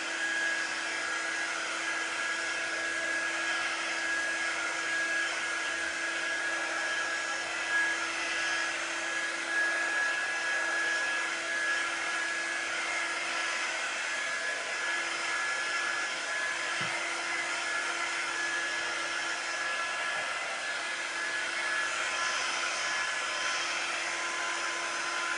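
A hair dryer blows steadily on a freshly painted small wooden table riser, its whining motor hum constant and close from start to finish with no talk.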